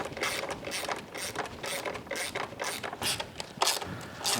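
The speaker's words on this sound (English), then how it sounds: "Let's go ahead and get them tightened down." A socket ratchet tightens the bolts of a Yoshimura fender eliminator kit on a Honda Grom motorcycle, with steady rapid clicking strokes in repeated bursts, close and loud.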